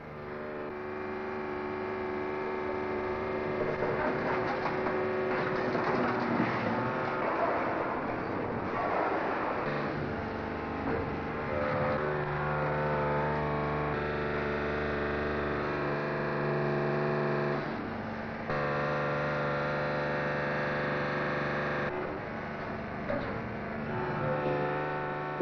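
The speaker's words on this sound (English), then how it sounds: "Bigger pieces of metal go into a stronger crushing machine. That old pedal car is going to be crushed." An old pedal car is flattened in a heavy metal-crushing machine at a 1970s rubbish processing site, giving a sustained, loud grinding and humming drone with shifting metallic whines and groans over about twenty-five seconds.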